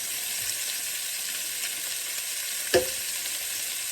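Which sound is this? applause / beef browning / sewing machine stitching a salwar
beef browning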